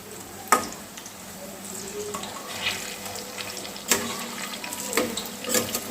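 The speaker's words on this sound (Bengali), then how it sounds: "আমি একদম লো ফ্লেমে এগুলো আস্তে আস্তে বড়াগুলোকে ভেজে নিচ্ছি।" Water lily flower fritters frying gently in oil over a low flame, a soft steady sizzle with a few sharp clicks and clatters of turning or handling, close by and with no speech.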